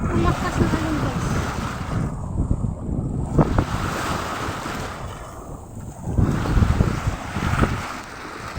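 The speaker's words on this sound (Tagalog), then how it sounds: "Ang lakas talaga ng alon guys." Strong sea waves surging and crashing continuously, with heavy wind buffeting the microphone throughout and a boat's presence nearby; a loud, sustained roar with swelling rushes rather than distinct single breaks.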